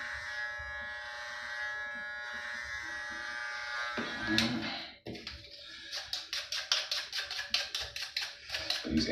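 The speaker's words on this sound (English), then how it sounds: "These Andis T outliners are great for giving yourself a nice bald head haircut." Andis T-Outliner electric clippers buzzing steadily close up while shaving a head bald, then a series of rapid rhythmic strokes and taps as the trimmer is passed over the scalp.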